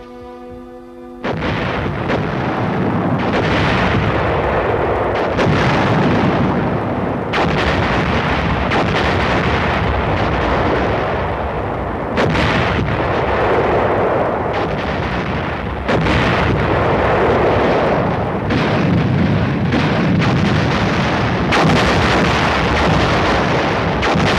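Korean War artillery barrage from 1950, heavy guns firing in a dense, continuous series of deep booming blasts that roll into one another, loud and sustained throughout with no voices.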